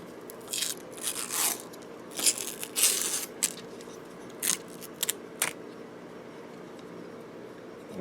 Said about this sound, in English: we need to take this tape off of them.